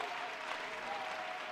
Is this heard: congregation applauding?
yes